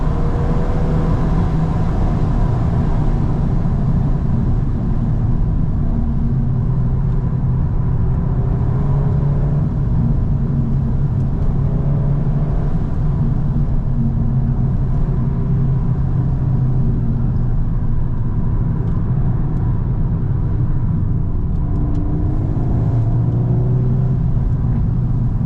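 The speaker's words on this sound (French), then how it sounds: "tu remets pied sur l'accélérateur, elle repart vraiment direct, quoi" An Audi R8 accelerates along mountain roads, heard as a continuous engine roar and road rumble from inside or near the car, with revs swelling and easing over a long, steady stretch and no talk.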